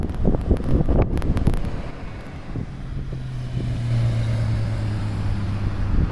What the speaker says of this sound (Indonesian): Ini di pinggiran kota Koriyama ya, ini suasana lalu lintasnya.